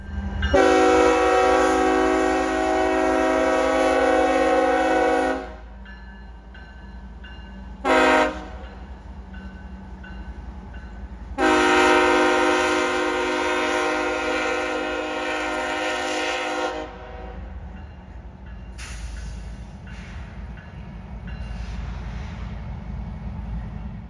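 CSX Chessie 1973 locomotive with pushers in the Cowan pusher district passing, its horn sounding long loud blasts with a short toot between them over the constant rumble of the train rolling by.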